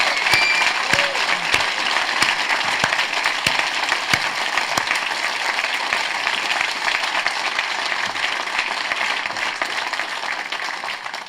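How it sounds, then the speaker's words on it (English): An indoor audience claps steadily and loudly throughout a political party's campaign launch for the 2019 European elections, producing a dense, sustained wash of applause with a few sharper individual claps. "When was the last time somebody applauded a new political party?"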